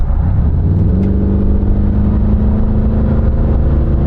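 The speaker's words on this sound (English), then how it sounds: "slow down to like 40, and then we'll floor it and see how it passes, how it accelerates" An old, high-mileage car engine is floored from about 40 mph, a loud steady mid-range roar with a rising tone as it accelerates, heard from inside the car.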